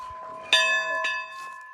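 A bell is struck once, ringing with a clear sustained tone and bright overtones, then a second lighter strike follows as the ring lingers and fades, with no talk over it.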